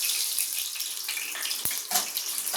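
Mustard and fenugreek seeds fry in hot oil in a pan, giving a steady, close hiss of sizzling with a few sharp pops and crackles.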